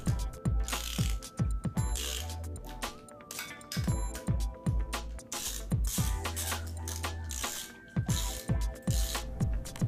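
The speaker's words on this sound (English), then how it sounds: "Snug the hub body nuts in a progressively tighter crisscross pattern using a 13 millimeter" A ratchet wrench with a 13 mm socket tightens the hub body nuts of a bicycle front wheel hub in a crisscross pattern, giving repeated bursts of close, crisp clicking with brief pauses between strokes.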